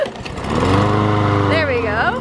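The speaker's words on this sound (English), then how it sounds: "we're having some technical difficulties with the lawnmower." A lawn mower engine hums loud and close with a steady droning tone that wavers near the end, while someone talks over it.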